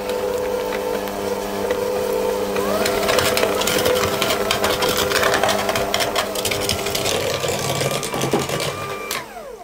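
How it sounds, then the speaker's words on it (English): An electric mixer creams butter and sugar for deep filled mince pies, a loud, steady whirring motor hum that runs continuously with rattling, scraping bowl noise and winds down at the end. "So I'll just cream this together until it's all nice and"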